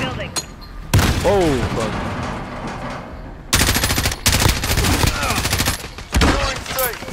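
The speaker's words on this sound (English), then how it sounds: "Oh, they're shooting right across." Automatic gunfire in Call of Duty: Modern Warfare multiplayer, loud dense bursts of rapid shots coming in several waves, with a brief exclamation from a player over the shooting.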